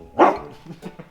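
A dog gives a single sharp bark on command, followed by a few softer yips and whimpers, close by with no talk.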